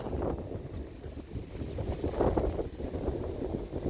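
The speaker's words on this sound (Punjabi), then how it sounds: "ਪੂਰੀਆਂ ਤੇਜ਼ ਹਵਾਵਾਂ ਚੱਲਣ ਲੱਗੀਆਂ" Strong wind gusting before a storm in Punjab, a steady, roaring rush with buffeting against the microphone that lasts throughout, with no voices.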